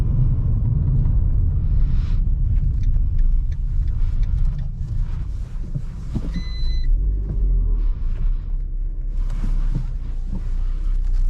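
A car idling and creeping through a slow turn while the steering wheel is turned, with a steady low engine rumble, slight revving and faint mechanical whirs and clicks.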